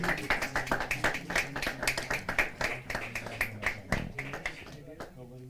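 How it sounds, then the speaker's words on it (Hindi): Audience clapping at a Hindi poetry open mic, uneven bursts of hand claps close by, mixed with people talking over them, thinning out toward the end. "फिर वो जोरदार तालियां बजाते रहें।"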